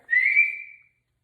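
A single short, clear whistle from a person trying to hush an old dog, rising briefly and fading within a second, alone in the quiet.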